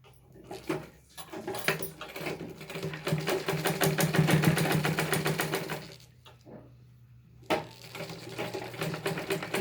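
Sewing machine stitching the front panel of a blouse, running in long steady bursts with a brief pause near the middle and a short stop-start toward the end, close and fairly loud with no talking.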